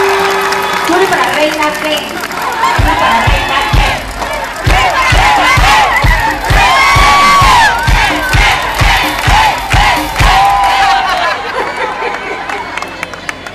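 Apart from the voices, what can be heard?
crowd applauding and cheering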